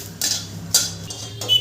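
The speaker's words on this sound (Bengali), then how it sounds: "এগুলো একটু নেড়ে নেব" Dry red chillies, peppercorns, whole cumin and cardamom being stirred in a pan over a low flame: three sharp metallic spoon clinks against the pan over a soft background hum, with no voices.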